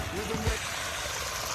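Water gushes steadily from a farm pump outlet, a continuous rushing, splashing flow close by, with a brief murmur of a voice near the start.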